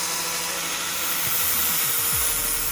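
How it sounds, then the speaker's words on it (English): A sanding disc grinds material away from a suspension mount, giving a steady, close abrasive whir with faint shifting tones as the tool bears on the metal. "Just take the sanding disc and just take some of that material away."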